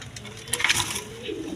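A pair of Lahori pigeons at a seller's stall gives soft, low cooing that swells briefly in the middle and returns faintly near the end, over a steady background hiss.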